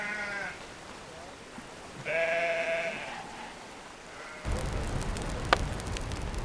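Sheep bleat in several separate calls among a flock, fairly close, with a burst of rustling, clattering movement and faint voices toward the end.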